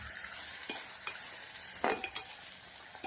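Thin bitter gourd slices fry in oil, giving a steady soft sizzle with occasional crackles and stirring scrapes, close and fairly quiet, with no voices.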